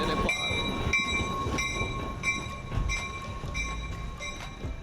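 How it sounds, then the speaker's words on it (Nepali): A 100-year-old train in Nelson, British Columbia, heard running with a repeated bell-like tone ringing at a steady rhythm over a low mechanical rumble, moderately loud and close, with no voices. "यो चाहिँ 100 वर्ष पुरानो ट्रेन अरे गाइज"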